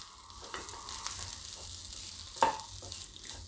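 Zunka with fresh local coriander is stirred in a pan, a soft sizzle running under scraping spoon strokes, with one sharper knock midway and no talking.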